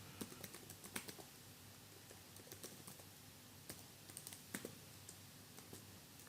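Typing HTML code on a computer keyboard, producing quiet, irregular clicks and key taps in short bursts, close by in a hushed room with no talking.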